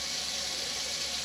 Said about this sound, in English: give my arm a good wash